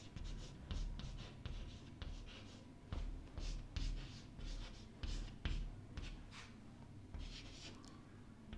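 Handwriting strokes while working a Class 9 maths problem on adding and subtracting complex numbers: close, scratchy marks in short, irregular bursts with brief pauses between them, and no talking.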